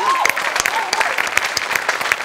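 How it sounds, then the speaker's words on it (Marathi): Audience at a Marathi comedy stage show applauds a performer, dense clapping filling the space with a few sharper claps standing out, while a voice speaks briefly over it at the start. "अफलातून अभिजित पवारसाठी जोरदार टाळ्या."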